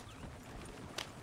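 Faint horse hooves clip-clop at a steady walking pace in the Red Dead Redemption 2 video game, with a brief sharp click near the end.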